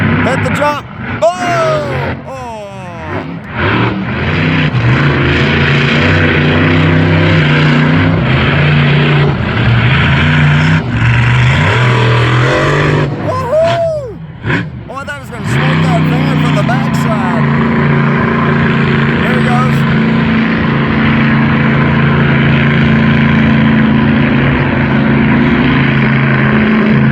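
Monster trucks roar at Elko Speedway during a Redneck Rampage event, a loud continuous engine drone running throughout, with spectators shouting and cheering over it and a brief dip in the noise midway.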